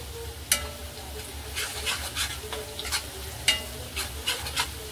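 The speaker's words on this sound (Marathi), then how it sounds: "म्हणून लसूण असं हलवत राहायचंय." Garlic frying in a pan for restaurant-style homemade Schezwan chutney, stirred steadily with a utensil; a continuous low sizzle runs under repeated scraping strokes, fairly close, with no talk.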